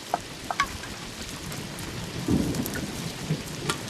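A thunderstorm pours steady rain, a dense close hiss throughout, with a low rumble of thunder swelling near the middle and scattered drop patters, no voices.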